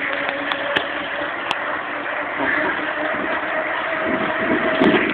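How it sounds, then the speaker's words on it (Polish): Steady broadband roar of car tires at about 190 km/h on the A2 motorway near Łódź, a continuous close rushing noise that swells slightly toward the end, with no talk. "Tylko dźwięk tych opon!"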